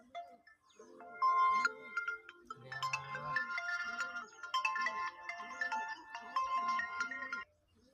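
A mobile phone ringtone sounds for an incoming call, a bright electronic melody of repeating tones that plays loud and close for several seconds, then cuts off abruptly.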